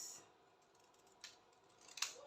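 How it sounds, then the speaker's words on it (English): Scissors cutting gown fabric, two or three quiet separate snips with soft handling rustle between them, close and faint in a hushed room. "So I'm going to cut out the part I reshaped."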